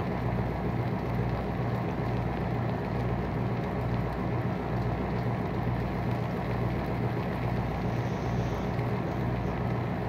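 Steady rain in a farming video game, a constant dense hiss layered over a low droning hum, continuous and unchanging throughout with no speech.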